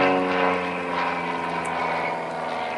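A Citabria aerobatic airplane flies on a hot, sunny day, its propeller engine droning in a steady, harmonic-rich hum that stays loud and constant throughout.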